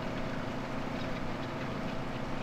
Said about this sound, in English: the old twin exhaust there, chugging out all that black smoke